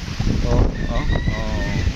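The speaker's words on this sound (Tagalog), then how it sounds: "Sarap ng hangin" Gusty wind over open rice fields buffets the microphone with a low rumble while a person talks over it nearby.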